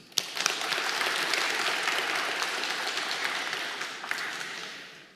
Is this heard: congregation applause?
yes